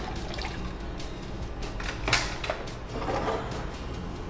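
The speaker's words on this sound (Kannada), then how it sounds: "ಇದಕ್ಕೆ ಸ್ವಲ್ಪ ನೀರು ಹಾಕಿ" Water poured over blanched palak (spinach) leaves in a kitchen, a soft continuous splashing and trickling at moderate distance with a brief louder gush midway, no talk.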